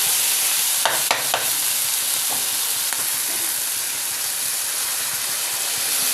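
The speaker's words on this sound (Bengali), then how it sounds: "এই দেখুন বন্ধুরা মশলাটা কষানো হয়ে গেছে এবার আমি এই ভেতরে জলটা দিয়ে দেবো" Water poured into a pan of sizzling fried spice paste for a Bengali Batasio fish curry, giving a steady loud hiss with a few sharp bursts near the start, no talking.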